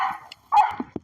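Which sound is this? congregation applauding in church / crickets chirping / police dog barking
police dog barking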